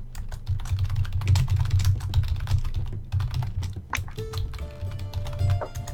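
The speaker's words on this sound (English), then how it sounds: "I'm typing that up now for you, that document" Fast, close typing on a computer keyboard, a steady stream of clicking keys over a low background hum, with a brief tonal beep near the end.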